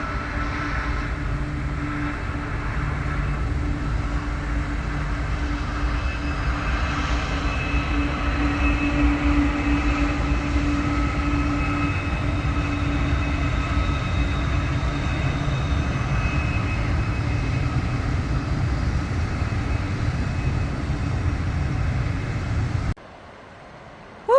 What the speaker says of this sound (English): Look, it's a train.